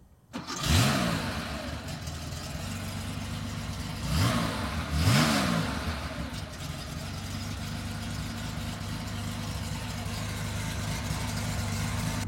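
A 1972 Porsche 911 2.4 with an air-cooled flat-six cranks and fires, then blips its revs twice before settling into a steady, throbbing idle, close and loud with no talking.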